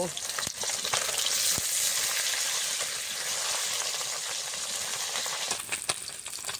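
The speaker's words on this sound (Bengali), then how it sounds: "খুব বেশি মাছ একসাথে দেবো না অল্প অল্প করে দিয়েই ভেজে নেব" Bata fish frying in hot oil for a Bengali fish curry, a steady dense sizzle throughout with a few sharp crackles and spatters near the end, close and alone without talk.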